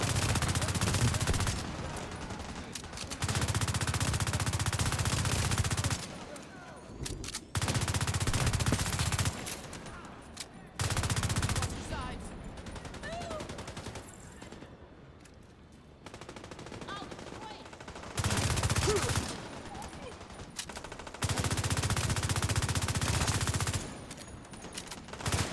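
Sustained bursts of automatic gunfire in a cooperative shooter game, with players firing through a gate at enemies; loud rapid volleys come in several long stretches separated by quieter gaps.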